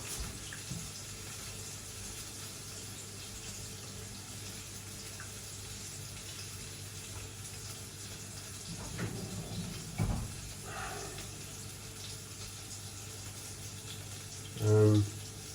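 Dirty water drains out of a Fisher & Paykel dishwasher drawer with a steady low rushing wash that runs without a break, a few gurgles rising near the end.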